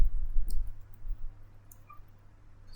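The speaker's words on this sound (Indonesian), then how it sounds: "Kita ketik import" Keys on a computer keyboard are tapped while code is typed, giving a few faint, sparse clicks over a low steady hum.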